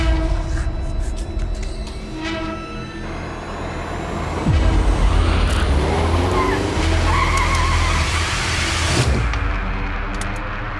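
A car speeds and cuts in front of another on a Delhi road, with tires screeching, a revving engine and passing traffic, loud and close throughout.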